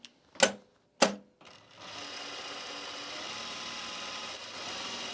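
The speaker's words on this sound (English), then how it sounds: "we're gonna add a gathering stitch along the bottom here" A sewing machine runs a steady, continuous gathering stitch along the bottom of a fabric travel bag, preceded by two sharp clicks and a short pause before the motor settles into an even whir.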